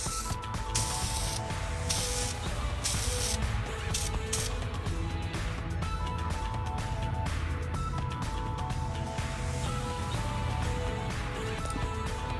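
Spray paint hisses continuously and steadily from a close can as a coat goes onto a Honda Civic fuel rail, with brief pauses between passes and no voices.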